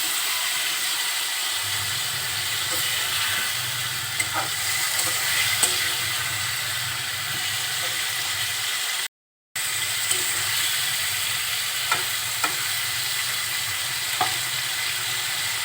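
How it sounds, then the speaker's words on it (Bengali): Ridge gourd and potatoes fry in spice paste while being stirred, a steady close sizzle with occasional scraping clicks and a low rumble, and a brief dropout partway through. "কুশি আর আলু মশলা সাথে খুব ভালোভাবে নাড়াচাড়া করে"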